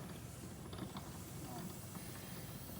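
Air hisses steadily through a sausage stuffer as it is cranked down, a continuous soft rushing with faint mechanical clicks from the crank.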